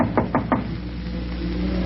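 Three quick raps on a door as a radio drama sound effect, close and crisp, followed by a pause with only a low steady room hum.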